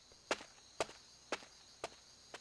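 Footsteps climb the stairs as an audiobook sound effect, five evenly spaced steps, each a sharp scuffing thud heard close and alone over a quiet background.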